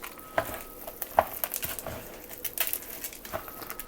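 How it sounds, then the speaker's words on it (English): Stuffed pepper filling ingredients being mixed together in a bowl: close, soft, irregular squelching and stirring with a few light clinks of a utensil, no talking. "now just combine these ingredients together very well"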